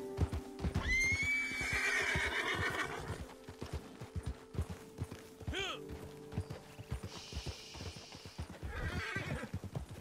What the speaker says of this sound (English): Why is it just a horse?